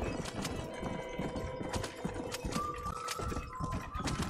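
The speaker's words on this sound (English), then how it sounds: "While you have a weapon drawn, your horses will try and stay on the road." Horse hooves clip-clop steadily along a road in the video game Red Dead Redemption, a continuous close trotting rhythm over a low ambient bed.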